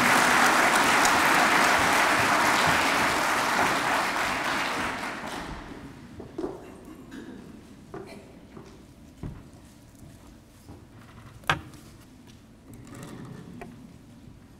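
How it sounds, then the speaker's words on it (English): An audience at a high school academic awards ceremony applauds top students, strong clapping lasting about five seconds, then thinning to scattered claps, shuffling and a few sharp knocks. "your applause is in order"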